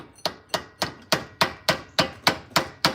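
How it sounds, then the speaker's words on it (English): Repeated metal hammer blows knocking a stuck axle nut loose during suspension work, about ten sharp evenly spaced strikes, close and loud with no talk. "I'm gonna kind of get that started, hammering it through."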